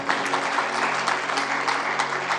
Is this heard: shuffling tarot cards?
no